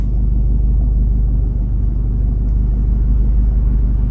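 A 2016 VW Passat diesel-era wagon engine idles steadily while warming up, checked for dual-mass flywheel noise, a low constant rumble close by for several seconds with no voices, cutting off abruptly at the end.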